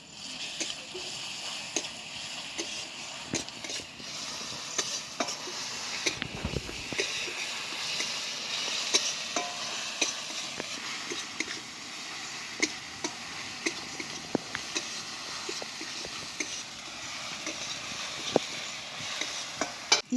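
Onion and ground garlic frying in a pan for a village-style egg curry, a soft steady sizzle broken by frequent sharp scrapes and clicks of stirring, with one brief louder knock partway through.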